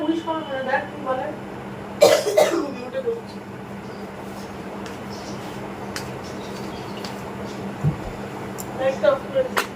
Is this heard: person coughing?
yes